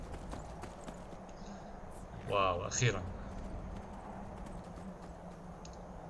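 Horse hooves clip-clopping in the video game Skyrim, a short burst of a few steps near the middle over a faint steady background, with someone talking briefly.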